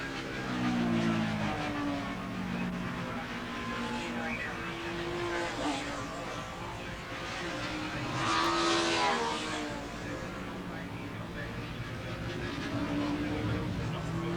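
Racing motorcycles lap the circuit in the 1984 New Zealand Castrol 6 Hour race, engine notes rising and falling as machines pass at a moderate distance, one louder pass near the middle over a continuous background roar.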